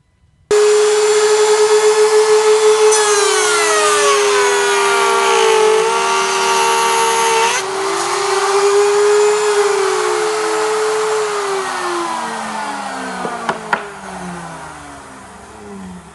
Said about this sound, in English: We're cutting the rails, and it's kind of actually 2 routers.